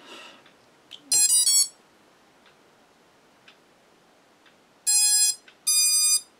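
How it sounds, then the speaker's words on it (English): Electronic speed controllers on a GEPRC KHX5 Elegant FPV drone chirp their startup tones after the battery is plugged in: one rising burst of beeps near the start, then two more close together near the end, loud against a quiet room. "Got all the beeps for the ESCs, flight control board flashed."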